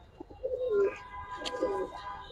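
Pigeons coo in two soft, throaty phrases, each a low rolling call rising then falling, heard close by with faint background bird chatter and no talking. The birds are quality pigeons, including silver, Giribaz, racer and fancy breeds.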